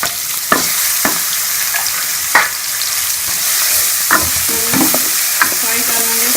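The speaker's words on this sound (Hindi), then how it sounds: "फ्राई कर लेंगे प्याज को अच्छी तरह मसाले के अंदर" Onions frying in masala sizzle loudly and continuously, broken by repeated scraping and clattering strokes of a spoon stirring the pan.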